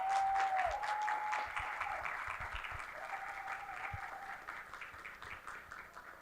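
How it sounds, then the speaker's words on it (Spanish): Audience applause at a reading, writing and oral-language education workshop event, moderately faint and steady clapping that slowly fades, with a thin whistle-like tone heard faintly over it at times. "Vamos a darle un fuerte aplauso."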